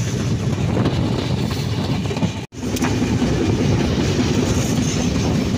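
Train pulling into Bhanga railway station in Bangladesh, wheels clattering steadily on the rails with a loud, close rumble and a brief dip in sound midway.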